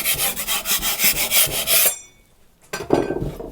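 A filling knife used as a scraper rasps across a surface in quick, close, rhythmic strokes, then pauses briefly before a final scrape.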